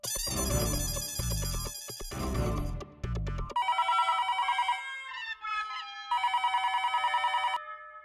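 Telephone ringing in a household scene, a loud repeating ring pattern in several bursts with short gaps between them, shifting to a brighter electronic ringtone-like trill partway through.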